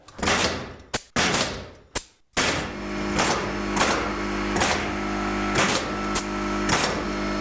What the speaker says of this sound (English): When you're nailing this, do not angle the nailer so much